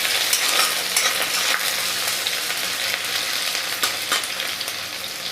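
Sliced onions hit sugar melted in a pan for chickpea curry, setting off a loud, steady sizzle with crackling bursts and the scrape of stirring throughout.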